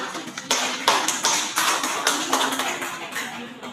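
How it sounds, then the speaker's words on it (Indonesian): A middle school class of students clapping hands together in a classroom, a rhythmic run of quick bright claps in short repeated bursts, close and fairly loud, with no talking during it. "kita beri tepuk tangan dulu ya"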